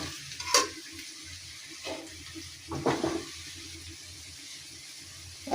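Onions frying in oil in a wok while being stirred, a low steady sizzle under a few distinct louder scraping strokes at irregular intervals; no one speaks.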